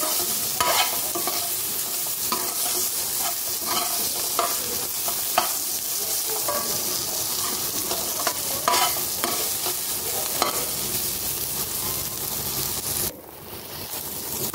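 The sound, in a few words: onions frying in fish oil, stirred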